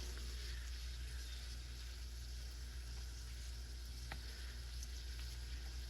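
Salmon nuggets fry skin side down in a skillet over medium heat, giving a faint, steady sizzle that holds evenly throughout, with a few tiny pops.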